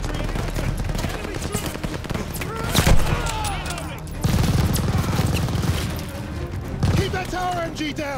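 Dense bursts of machine gun fire and rattling volleys fill a battle scene in Call of Duty: Vanguard, loud and continuous, with booms and shouting voices mixed in.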